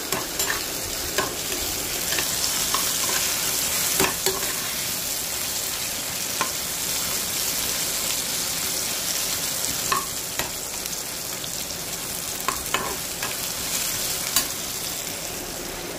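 Brinjal fries in a pan with a constant close sizzle, punctuated by regular scraping and clicking stirs of a spatula every second or two, with no speech.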